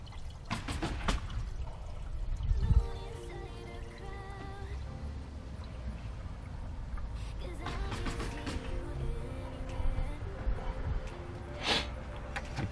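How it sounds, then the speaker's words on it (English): Liquid additive is poured into the engine oil of an Infiniti G37, a steady close trickle and gurgle with a few drips and a brief knock, no talk. "So you pour that inside of the oil."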